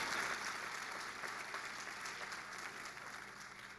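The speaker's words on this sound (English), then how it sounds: "go ahead, you can clap for Dr." Audience applause at a Montgomery County Community College commencement ceremony, a steady, fairly distant wash of clapping from a large crowd that holds evenly for several seconds.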